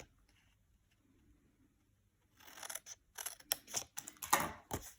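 Cardstock is sliced by a paper trimmer blade to cut out a small wedge: a run of short, crisp cutting and sliding clicks, close and fairly loud, after a couple of quiet seconds.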